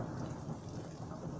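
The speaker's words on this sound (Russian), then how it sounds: "У нас опять начинает греметь." Thunder rumbles during a rain-and-wind storm, a low, steady roll under the hiss of rain, moderately quiet and unbroken.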